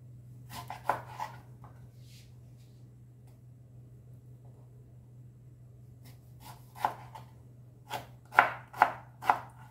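Knife chopping knol khol, or green turnip, on a board: a few scattered cuts early, a quiet pause, then sharp, evenly spaced chops growing louder and quicker over a low steady hum.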